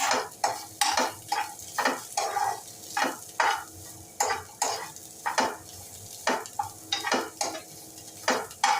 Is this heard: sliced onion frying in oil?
yes